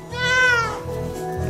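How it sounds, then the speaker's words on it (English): A pet cat gives one clear, drawn-out meow close to the microphone, rising then falling in pitch, followed by quieter household background noise. "You meow so much"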